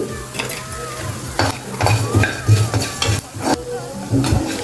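Coriander and cumin seeds dry-roasting in a pan, stirred constantly; loud, close scraping and rattling of a spatula over a light sizzle, in repeated strokes with short pauses and no voices.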